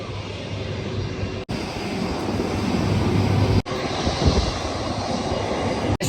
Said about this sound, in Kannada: ಈಗ ನಮ್ಮ ನಮ್ಮ ಹಿಂದೆ ನೋಡ್ತಾ ಇರೋ ಫ್ಲೈಟ್